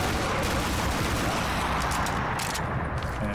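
In Black Ops III Zombies, a weapon fired like a shotgun unleashes dense, continuous bursts of loud gunfire, packed tightly with blasts and harsh noise that barely let up.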